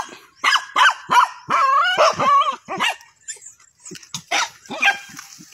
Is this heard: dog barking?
yes